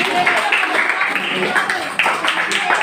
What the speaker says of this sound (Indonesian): Oke, tepuk tangan untuk kelompok Jimmy.